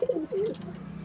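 A Malwai pigeon gives a close, clear coo, two quick rolling notes followed by a longer drawn-out one, with soft background murmuring after.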